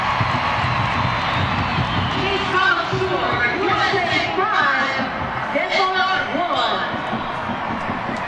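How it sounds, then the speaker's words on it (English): Stadium crowd at a U.S. women's national team soccer match against Denmark roars and cheers loudly and continuously, with whoops and shouts rising in waves over a dense, sustained wall of noise. "The crowd reaction, all you need to know"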